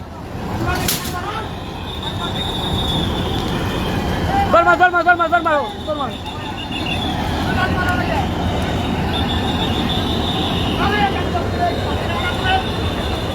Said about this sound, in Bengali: শাটল ট্রেন রাজবাড়ি থেকে পুরাদাগামী ট্রেনটা কুষ্টিয়া মদনপুর গেটে আটকায় দিয়েছে